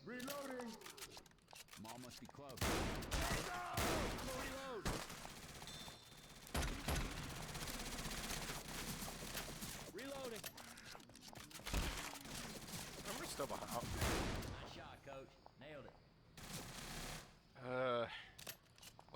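Pump shotgun gunfire in the video game Left 4 Dead 2, with repeated blasts and pump actions scattered through a busy firefight mixed with other gunfire and game effects, while a player talks over much of it.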